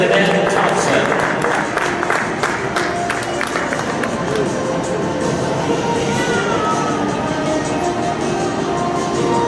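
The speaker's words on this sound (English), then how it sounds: "how about a round of applause" Audience applause and crowd noise at an Arabian horse demonstration during a youth roundup event, a steady dense wash of clapping and murmuring lasting throughout, with some babble mixed in.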